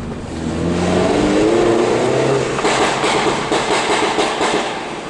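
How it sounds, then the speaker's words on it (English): A Mini's engine revs hard inside a tunnel, the exhaust note climbing and echoing loudly, then breaking into rapid pulsing pops and crackles as the throttle changes, fading slightly at the end. "I get to enjoy the exhaust appreciation tunnel"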